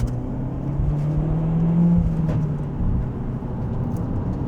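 A Peugeot 208 GTI hot hatch pulls hard in second gear, its engine note rising steadily then easing off, heard close and loud from inside the car with no talking.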